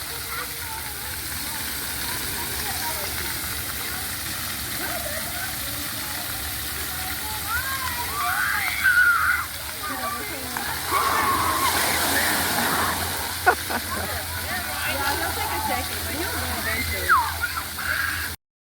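Water splashing and sloshing at an outdoor splash pad, a steady wash of spray with louder gushes near the middle and end, while people talk in the background.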